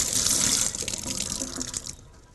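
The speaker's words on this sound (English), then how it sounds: "let me rinse this out in the sink here" A sponge is rinsed under a running sink tap, water hissing and splashing steadily up close, then thinning and trailing off toward the end.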